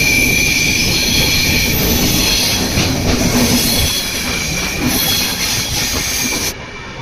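The Kanchan Kanya Express runs on rails past tea gardens and forest near Siliguri, a loud, continuous rumble with hissing and faint wheel squeal throughout.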